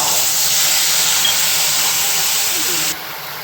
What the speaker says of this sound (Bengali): এবার আমি তেলের মধ্যে দেখুন জিরে আর শুকনো লঙ্কা দিচ্ছি, গোটা জিরে শুকনো লঙ্কা।